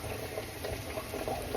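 A breaded pork cutlet for homemade Japanese tonkatsu fries in hot oil, a dense, steady crackling sizzle with small popping bubbles, loud and close with no voices.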